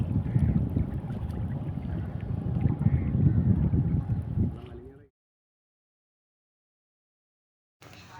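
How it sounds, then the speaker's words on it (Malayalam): A fishing boat moving across open water on a net-fishing trip, with steady loud engine and wind rumble that cuts off abruptly partway through, followed by a few seconds of silence before noise briefly returns. "അപ്പോൾ നമ്മളിതാ വള്ളത്തിൽ പോയിക്കൊണ്ടിരിക്കുവാണ്."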